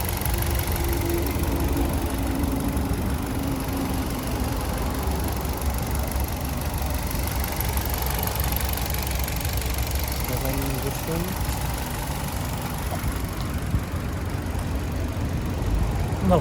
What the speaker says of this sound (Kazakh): Мотор даже вообще вибрация болып қойды қа?